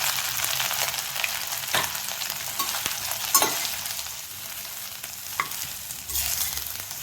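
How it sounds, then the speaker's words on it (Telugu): Soybean chunks frying in hot oil in a kadai, a continuous close sizzle broken by several scraping stirs and clinks of the spoon against the pan, no voices. "సోయాబీన్ వేసి వేయించుకోవాలి."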